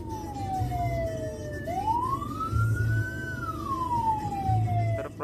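An ambulance siren on its wail setting sounds in slow rising and falling sweeps, moderately loud over a low rumbling background.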